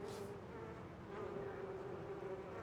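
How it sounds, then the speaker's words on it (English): Dense swarm of bees buzzing around a beehive in the fantasy game Sorcery!, a steady, continuous drone of many insects that fills the whole moment without letup. "You'll hear that there are a huge number of bees going all over the place"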